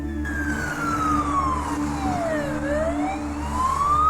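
An ambulance siren wails in a falling-then-rising sweep over a low steady engine rumble, fairly close and continuous, heard on a road in Malaysia, with no talking.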